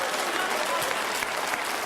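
Audience applause from a live talk event, a dense, steady wash of many hands clapping at close range, with no talk over it, for the whole short stretch.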